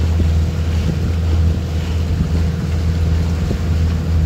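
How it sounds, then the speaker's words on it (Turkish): A light headwind buffets a sailboat under sail off the Datça peninsula, a steady low rumble of wind on the microphone mixed with water and hull noise, continuous and without talk. "Hafif kafadan rüzgar var."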